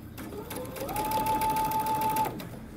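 A sewing machine stitches the sleeve hem of a mini hoodie, running as one steady whirring motor run of about a second and a half, close and clear, with no talk.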